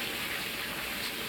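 Water gushing steadily into a bathtub, a continuous broadband rush filling the whole moment without pause, close and moderately loud.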